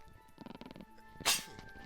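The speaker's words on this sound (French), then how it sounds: "ça me fait éternuer" A sneeze in a French Guild Wars game commentary, a single sharp burst standing out clearly after some muffled speech and game sounds, followed by a short trailing tail.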